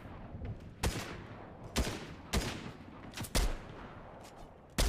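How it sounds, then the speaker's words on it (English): Scattered shots from enemy shooters in a video game, with sharp isolated reports at irregular intervals over a steady low background, with no talking. "I can't tell where they're shooting from."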